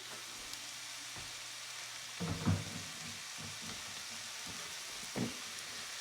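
Ground beef and breakfast sausage frying in a pan for homemade nachos, a faint, soft sizzle with a few louder spatula scrapes and thumps scattered through.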